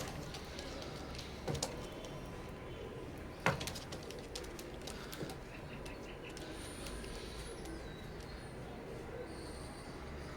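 Pigeons of an Oman-bloodline Teddy breed coo now and then amid steady background noise, with a couple of sharp knocks and faint higher bird chirps later on.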